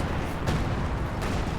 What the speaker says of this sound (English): receiving artillery fire as well, does manage to survive the barrage